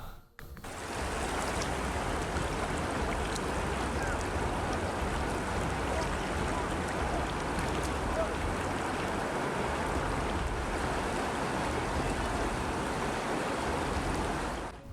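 The lahar-flooded Regoyo River in Lumajang, East Java, rushes past in a continuous loud, broadband roar of turbulent water that stays steady and unbroken for the whole stretch.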